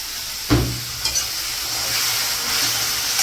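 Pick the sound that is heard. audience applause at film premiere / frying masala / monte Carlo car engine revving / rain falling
frying masala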